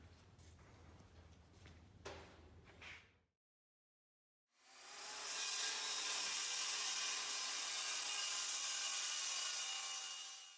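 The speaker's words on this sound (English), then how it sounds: "I used my power plane to take off the excess material." A power plane shaves excess wood off a wooden boat stem, starting with scraping and brushing noises, then a pause of silence, then a loud, continuous high whine that runs for several seconds.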